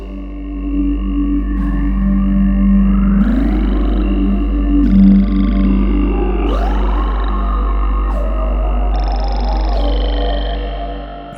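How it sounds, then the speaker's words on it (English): A dark, evolving synth pad from Arturia Pigments 3 drones low and steady while swooping, gliding tones and shimmering upper layers shift across it, loud and alone with no talk. "the first pad I want to show you is the Evolving"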